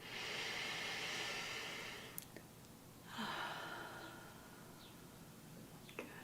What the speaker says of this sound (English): I'm going to take a breath.